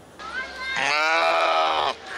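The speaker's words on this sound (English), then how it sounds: "She's a really good sheep." A sheep at a county fair 4-H livestock show gives one long, loud, wavering bleat close by, lasting over a second.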